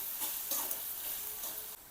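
Tomatoes being stirred and sautéed in a pan for a peanut curry, soft sizzling with a few scraping stir strokes, close and fairly quiet, no talking.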